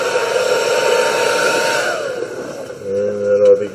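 A hair dryer blows steadily up close with a whining tone, then winds down and cuts out partway through as it quits, leaving a faint hum and light handling sounds.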